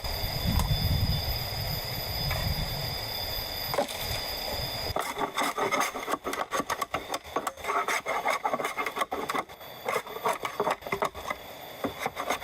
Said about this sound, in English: He shaves away hatchet layers to create an angled notch